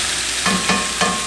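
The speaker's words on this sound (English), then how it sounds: "Get the sizzle going." Chicken pieces dropped into a hot pot for soup sizzle steadily, with three soft stirring or shifting pulses breaking up the continuous frying hiss.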